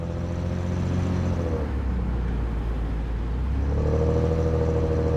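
A Toyota Crown Royal Saloon drives along with a steady low engine rumble and road noise, the pitch dipping then rising again as it changes speed, heard alone without talk.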